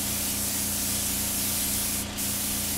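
Silver paint is sprayed onto a Benelli motorcycle fairing during restoration, making a loud, continuous close hiss that breaks off briefly once before carrying on.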